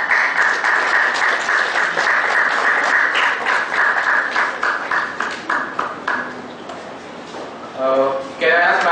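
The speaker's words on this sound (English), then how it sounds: "Can you give a round of applause?" An audience in a hall for a taxation talk applauds, steady clapping that thins and fades toward the end before a brief swell, with a voice speaking over it near the close.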